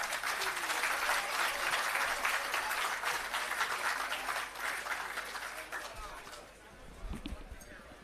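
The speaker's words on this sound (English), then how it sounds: "Please give her another round of applause." Sustained crowd applause at an outdoor commissioning ceremony for an irrigation system and agro park, dense steady clapping that thins toward the end, with a few voices at the close.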